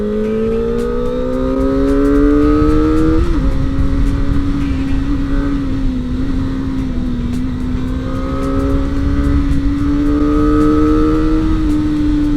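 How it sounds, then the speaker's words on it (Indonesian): A Kawasaki ZX25R motorcycle with a JTEC exhaust revs loud and close, its high engine tone climbing and settling several times over a rough, sustained exhaust rumble. "kalau kalian mau dapat suara moge, JTEC 25R itu adalah salah satu opsi terbaik buat kalian"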